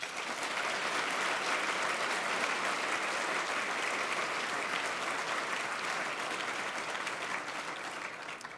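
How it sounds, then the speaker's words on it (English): A large audience at a university Founders Day medal ceremony applauds steadily, a dense, even wash of clapping that carries on for several seconds at moderate distance and fades slightly at the end. "So please join me in giving Walter a round of applause"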